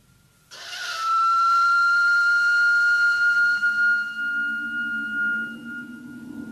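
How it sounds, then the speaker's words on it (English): A single long, shrill blast from an old whistle resembling a dog whistle, holding a steady high pitch for several seconds, with a low rushing, windy noise rising underneath toward the end. "Now, this thing is quite obviously a whistle. Not unlike a modern dog whistle, indeed."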